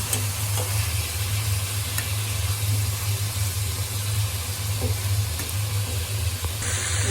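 Chopped onion frying in a pan, a continuous close sizzle with soft stirring scrapes and a low steady hum beneath.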